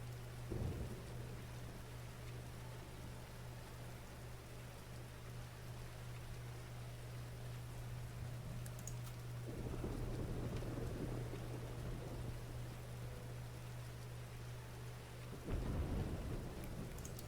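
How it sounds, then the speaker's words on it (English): Steady rain and rumbling thunder fill a storm scene in the farming video game Diluvian Winds, with constant rainfall and low thunder rolls swelling twice toward the end, no voices over it. "Ah, it's raining."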